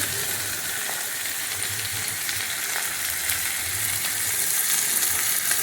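Manathakkali berries sautéing in a pan for a Tamil kara kuzhambu, a steady close sizzle and frying hiss with faint stirring, no voices.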